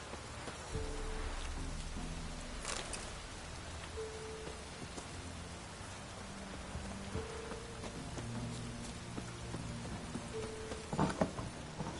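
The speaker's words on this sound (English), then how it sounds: "Looks like rain." Steady rain falling in The Witcher 3 game world, a dense continuous patter across the whole stretch with soft tonal game music underneath and a brief louder splash near the end.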